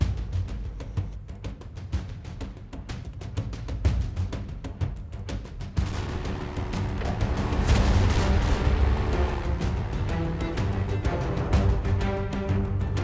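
Rapid, continuous bursts of gunfire and booming TNT explosions from a modded Minecraft World War II battle, building into a dense, rumbling barrage with no talking.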